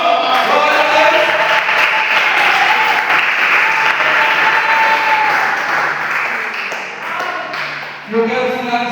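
A church congregation applauding during a Wednesday family service, sustained full clapping with a bright tonal note running beneath, thinning out near the end.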